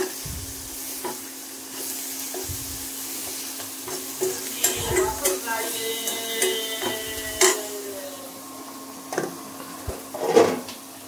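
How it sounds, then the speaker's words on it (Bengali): Onions and chillies fry in a pan with a continuous crackling sizzle, punctuated by frequent light taps and scrapes of a spatula stirring, close-up and with no speech. "পেঁয়াজ লঙ্কা ভেজে নিচ্ছি বন্ধুরা"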